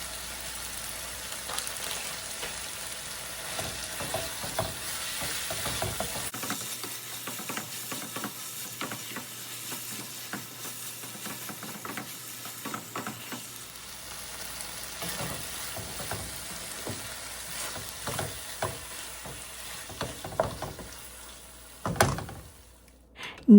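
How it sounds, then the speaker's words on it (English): About half a cup of mozzarella cheese is stirred into bell pepper stuffing in a pan over a long, gentle sizzle, with repeated soft spoon scrapes and a louder clatter near the end. "Add about half a cup mozzarella cheese and stir it to incorporate with the ingredient."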